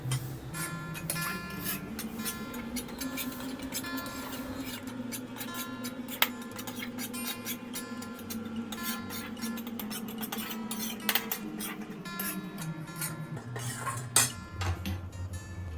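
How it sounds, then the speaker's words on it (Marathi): Grated coconut roasted in ghee in a pan for rava ladoo, a continuous quiet scraping and stirring with faint clinks of the spatula against the pan, no talking. "आता आपण त्यात खोबरं भाजून घेऊ"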